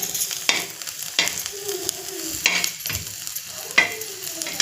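Cumin, red chili powder and turmeric are stirred in a hot pan for a peanut curry, with continuous sizzling frying and repeated scraping strokes of a spoon, close, with no talking.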